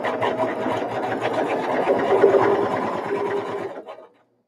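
A sewing machine pieces a quilt block, running in a fast continuous whir of needle strokes for about four seconds before stopping abruptly.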